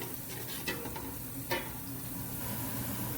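Onions frying in a pan for a mutton yakhni pulao, a soft steady sizzle with a few faint stirring clicks, close and quiet, no voices.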